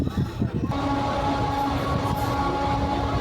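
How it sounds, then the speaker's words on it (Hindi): The Katra–Ambedkar Nagar special passenger train pulls out of Ujjain station, its wheels clattering rhythmically over the rails and its carriages rumbling steadily, loud and close, with a sustained hum running beneath the noise. "Katra Ambedkar Nagar special train Ujjain station से डिपार्चर हो चुकी है विदिशा के लिए।"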